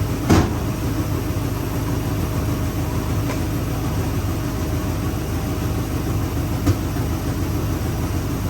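A Chevrolet Bel Air's 265 V8 idles steadily with a deep, rumbling low end and a raspy, ticking exhaust note from a massive exhaust leak, with a couple of faint clicks.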